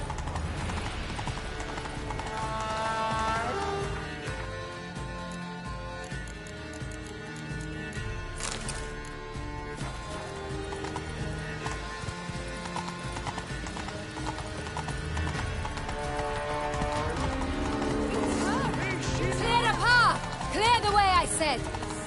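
Hooves clip-clop in a fast, steady gallop as the horse Roach runs in The Witcher 3, with occasional snorts and a whinny, under intermittent spoken dialogue and game music.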